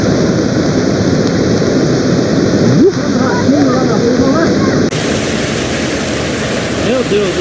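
Floodwater rushing into a building during a heavy flood, a loud, steady broadband roar of pouring water that fills the whole clip, with faint voices in the background.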